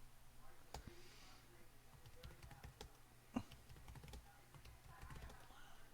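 Computer keyboard keys are tapped in a quick irregular sequence, close and fairly quiet, while a password is entered during a NetBSD 6.1 install on a SimH VAX emulator.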